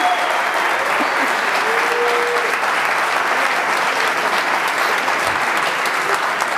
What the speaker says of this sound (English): please give an applause for Katso